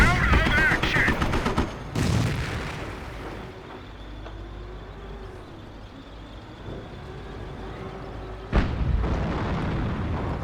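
Mortar and artillery fire in the Company of Heroes real-time strategy game, with heavy booming blasts near the start and again later, separated by a quieter stretch of battlefield rumble and clatter.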